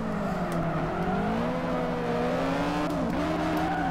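Car drifting in the racing video game Drift Street Japan: a steady, droning engine note that rises and falls with throttle, with a few brief tire-squeal accents, constant and fairly loud with no talk.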